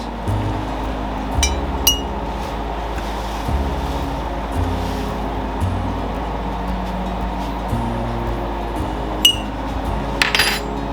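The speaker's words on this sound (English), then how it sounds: "I've already checked the rims of all of my jars that I'm going to be using today" Glass canning jars, their rims already checked, clink against one another as they are handled while tomatoes are processed for sauce, making several sharp, bright, close clinks spread over a low steady background hum.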